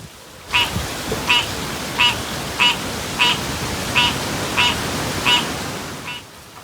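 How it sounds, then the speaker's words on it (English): Steady hiss of hurricane rain and wind gusts under a series of about nine regular frog croaks, repeating roughly every two-thirds of a second, fairly close. "Here is the rain and the wind gusts along with a croaking frog"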